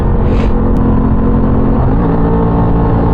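An Aprilia Tuono 660 motorcycle's engine runs loud and close with a steady low drone and a slight rise in revs near the start, no voices.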